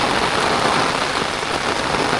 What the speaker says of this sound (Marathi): पाऊस आलाय तुफान